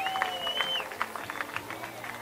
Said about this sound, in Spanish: Ese aplauso para Juan Dosil,